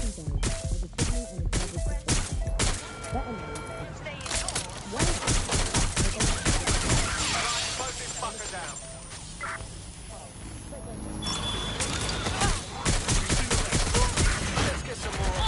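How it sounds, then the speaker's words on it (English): Rapid gunfire fills a police pursuit video game, dense volleys of shots running almost continuously with brief lulls, while radio-style voices talk over the shooting. "Shots fired! Shots fired!"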